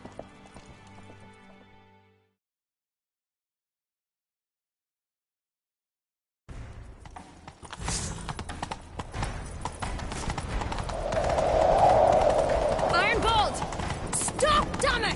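Horse hooves galloping in The Witcher 3 video game, a steady rapid clip-clop that starts after a brief silence and runs on loudly with a horse whinny and game sounds mixed in.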